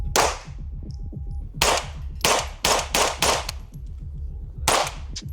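A 3D-printed ghost gun fires a string of sharp, loud gunshots, some in quick pairs and triples, with a gap between bursts and faint clanking in between.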